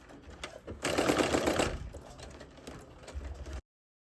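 A sewing machine back stitches on a top and pleated skirt. A close, rapid mechanical whirr surges loudly after a soft start, then eases into a lighter chatter before cutting off.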